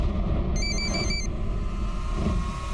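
A telephone rings in a home, a short burst of bright electronic ringing lasting under a second, heard fairly faintly over a heavy low rumble of background noise, with no speech.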